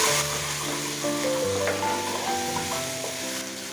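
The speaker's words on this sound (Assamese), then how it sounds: "এই মছলাখিনি এতিয়া মই কম ফ্লেমত ভালদৰে ফ্ৰাই কৰি ল'ম।" Spice paste with turmeric sizzles steadily in a pan on a low flame, a continuous soft frying hiss, close and even, with faint background music and no talk.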